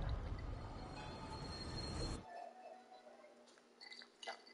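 Train ride in the video game Resident Evil 4: a loud, dense rumble of running rail wheels for about two seconds, then cutting off abruptly to quieter ambient game sounds with faint squeals.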